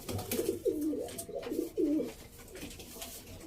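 Soft pigeon coos repeat in a low, throaty rhythm, a few calls close by over a quiet background.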